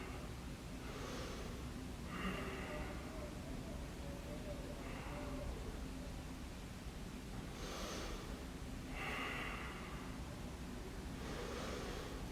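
Slow deep breaths during a yoga pose for athletes, several soft airy inhales and exhales spaced a few seconds apart, close and quiet over a faint steady background hiss.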